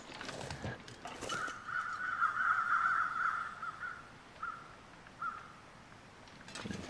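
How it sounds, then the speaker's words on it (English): Crows cawing in the video game The Long Dark, a steady run of harsh caws in the middle, then a few shorter, spaced calls before fading out. "Got some crows flying around."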